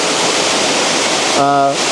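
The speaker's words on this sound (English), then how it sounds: "I think the waterfall is spectacular" Waterfall in the Drakensberg Mountains, a steady broadband rush of falling water throughout, with a brief tonal voice-like sound near the end.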